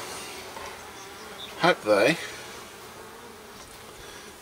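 Honey bees buzz around an open hive in a faint, steady hum, with a couple of louder passes as individual bees fly close, while a person speaks briefly.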